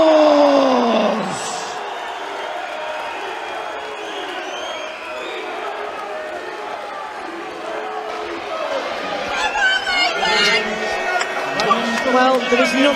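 Home crowd at a boxing fight night in Grimsby roars and cheers, a dense, loud wash of voices that swells toward the end, with whoops and chatter on top.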